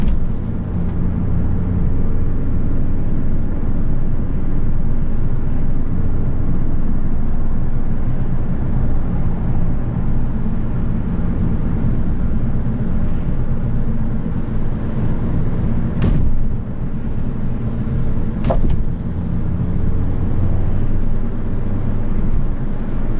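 A 2013 Fiat 500 Abarth hums steadily while driving, a loud, constant engine and road drone from the cabin, with two brief sharp knocks near the end as if over bumps.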